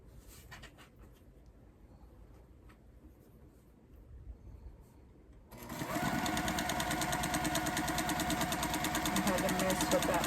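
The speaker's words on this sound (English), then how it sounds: "The bobbin that's making the racket" A home sewing machine with a noisy, poorly oiled bobbin starts after a quiet stretch and then runs steadily, loud and close, with a rattling mechanical drone, and a voice speaks briefly over the quieter opening.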